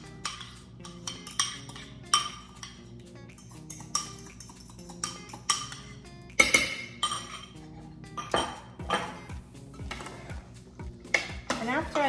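A spoon working a mix of chopped onion and red pepper into potatoes in a bowl for Puerto Rican potato salad, with repeated close clinks and scrapes against the dish and soft wet mixing in between.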